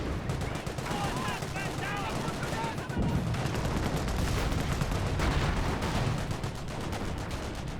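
Dense, continuous small-arms fire from flame engineers and grenadiers in a Company of Heroes 1 battle, with rapid crackling bursts overlapping throughout and a voice briefly audible early on.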